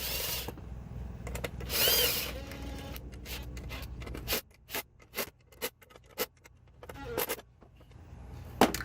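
A power drill tightens bolts while a PCM is installed on a 1999–03 7.3L Powerstroke, with a long whirring run followed by a series of short, close bursts of the motor.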